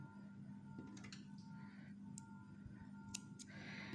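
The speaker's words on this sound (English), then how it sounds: "Now you're going to cut your indigo yarn" Scissors snip through indigo yarn during crochet amigurumi work, giving a few quiet, sharp clicks and cuts over a steady low background hum.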